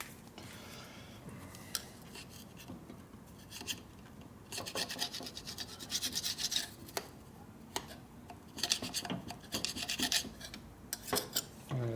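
Metal scraper rasping across a part on a 1970 Harley-Davidson XLCH Ironhead Sportster during a rigid chopper build, in repeated close strokes that come in bursts with short pauses.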